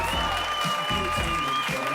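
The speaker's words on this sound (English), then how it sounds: "Let's give them all a big round of applause." Pageant audience at the 2024 Mrs. and Miss Alaska for America Strong state pageant applauding the contestants, steady dense clapping throughout, with a sustained tonal hum running underneath.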